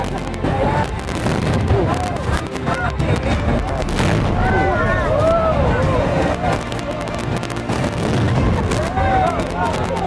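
Deep booming bedug drums roll on like distant cannon fire during a drum contest at a village festival in East Bogor, loud and dense, with a crowd shouting and whistling throughout.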